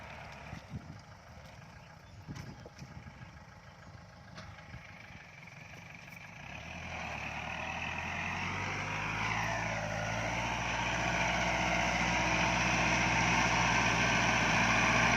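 A Kubota L5018 50 hp tractor planting corn on a hillside idles with a low rumble, then its engine revs up and holds a loud, steady, close drone.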